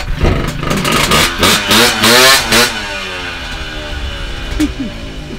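A Puch Maxi moped engine, tuned for speed, revs hard nearby in several rising and falling bursts, then drops back to a rough, buzzing idle with a steady mechanical drone.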